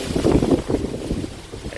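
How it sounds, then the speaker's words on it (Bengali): Strong wind ahead of Cyclone Remal buffets the microphone in rough, low rumbling gusts, loud and continuous with no voices. "জোরে হাওয়া দিচ্ছে, আমার কথা কিছু শোনা যাচ্ছে না আমি জানি"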